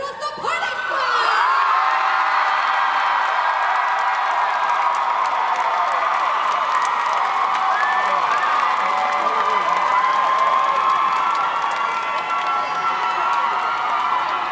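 A large crowd cheers and shouts continuously, with whoops and children's voices mixed in, loud and sustained throughout without pause.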